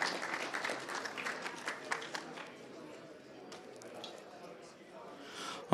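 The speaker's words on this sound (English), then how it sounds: "round of applause for Lucas anyway" Conference attendees at a Chicago cybersecurity event give a round of applause for an honoree, moderately distant clapping that thins out after about three seconds into a quieter room.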